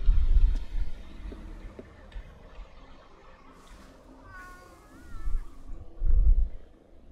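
Cats meow in the Tokyo streets of the video game Ghostwire Tokyo, a few soft wavering meows in the middle of the clip, set against low ambient rumble and heavier thumps at the start and end.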